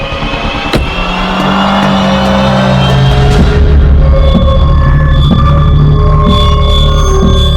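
A vehicle's engine keeps running, loud and close, at a steady throbbing idle with a low hum and faint clicks and metallic tones above it.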